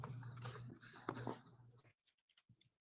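A cartoon puppy whimpers in the Pet Rescue Saga video game. Short soft whines sit over a low hum and then give way to near silence and a few faint scattered sounds.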